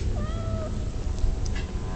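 A cat in the Harry Potter and the Sorcerer's Stone video game gives one clear, drawn-out meow near the start, followed by quiet game ambience and a faint chime.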